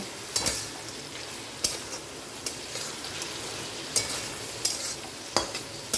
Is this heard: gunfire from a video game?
no